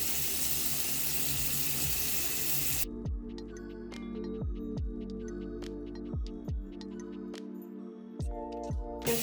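Water runs steadily from a tap at a sink while a bar of soap is scrubbed under it; the flow then stops, leaving scattered soft knocks, clicks and rubbing.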